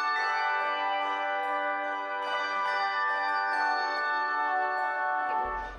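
Carillon ensemble from Košariska playing a continuous melody of overlapping ringing bell tones, sustained and resonant throughout, with a dense wash of harmonics and no voices.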